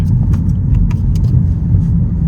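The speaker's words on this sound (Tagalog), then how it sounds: "Downshift na natin sa second gear." A 2015 Mazdaspeed3 hatchback downshifts into second gear, its engine a loud, close, low rumble inside the cabin with faint light rattles over the top.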